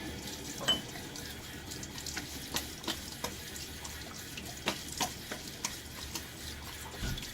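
Water rinsing a Gillette Ranger Tech shaving razor at a sink, a soft steady trickle with several light taps and clicks of the razor, fairly quiet and without talk.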